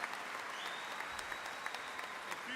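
Applause at the SIU Carbondale spring commencement, a quiet, distant roll of many hands with a few sharper claps standing out, steady throughout and faint at the back of a large venue.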